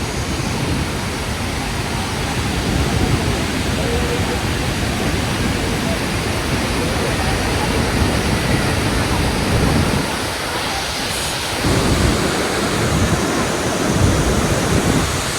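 Iguazu Falls on the Argentina–Brazil border roars as a steady, loud broadband rush of falling water, continuous throughout with brief dips in the low rumble near the end.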